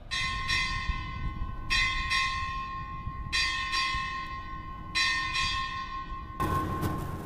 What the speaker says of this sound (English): Time orderly, strike 8 bells.